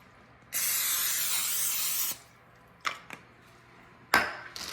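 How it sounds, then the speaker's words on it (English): A long, steady hiss of Pam cooking spray fills about one and a half seconds, followed by a few knocks and another short spray burst at the end. "First, I'm gonna spray this with Pam."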